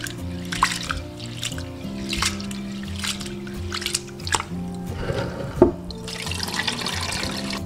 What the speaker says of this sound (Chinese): 再把糯米清洗干净